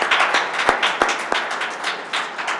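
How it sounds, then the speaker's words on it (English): Audience at a board of education special meeting clapping after a unanimous vote, a short, fairly sparse burst of hand claps with a few sharp, distinct smacks, fading toward the end. "yeah, you can applaud again"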